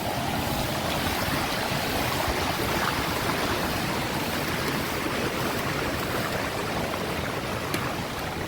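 A mountain stream on a hike on Mt Ayaas runs steadily, its water churned and murky, with a dense, continuous rushing wash that stays close and even throughout, without voices.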